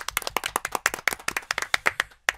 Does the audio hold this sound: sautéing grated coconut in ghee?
no